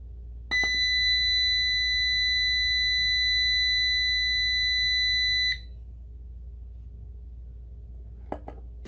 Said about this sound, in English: I call this contraption Beep because it makes a beep noise